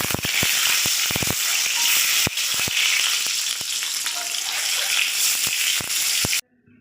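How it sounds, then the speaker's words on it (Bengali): Loud, steady sizzling of an egg frying in hot oil, with sharp pops and crackles scattered throughout, close by and without talk. "এবারে ডিমটা আমি ভেজে নেব।"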